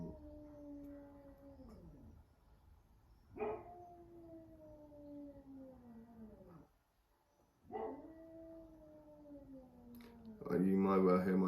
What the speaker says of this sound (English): you might well hear my dog singing.